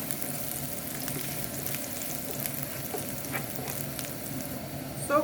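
Matchstick-cut ginger and vegetables frying together in a pan for a Chinese hot and sour potato stir fry, a steady close sizzle and crackle with faint scraping stirs, no talking.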